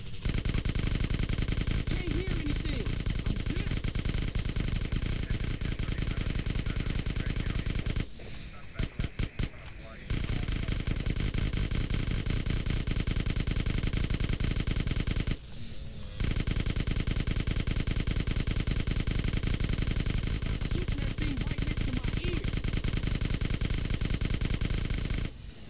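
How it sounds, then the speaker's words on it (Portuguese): Continuous automatic gunfire from the player in GTA San Andreas, a loud, sustained rattling stream broken by two short pauses, with game sounds layered underneath. "Apertar CTRL esquerdo, ele atira, né?"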